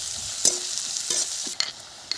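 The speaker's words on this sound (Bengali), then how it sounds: "রসুন বাটা দিয়ে দিয়েছি, একটু ভেজে নেব 1 মিনিট পেঁয়াজের সাথে।" Garlic paste frying with onions in a pan, a steady soft sizzle broken by a few scraping stirs of the spoon, close and moderately loud with no voices.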